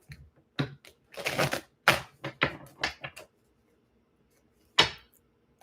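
Tarot cards are shuffled and drawn in a run of crisp, papery riffles and slaps, several quick bursts close by, then a pause and one last sharp snap, with no voices.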